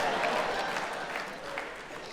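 An audience at a stand-up comedy show breaks into scattered clapping that stays dense at first and then thins slightly, with crowd murmur mixed in.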